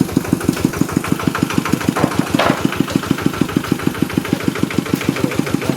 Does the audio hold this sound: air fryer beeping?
no